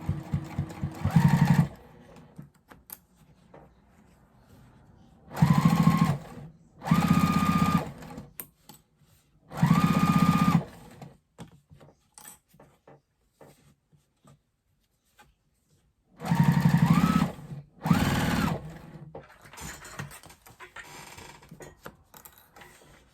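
A sewing machine runs a 4.5 stitch length along the strap of a quilted jelly-roll tote bag, heard as several short, close bursts of steady stitching separated by quiet pauses.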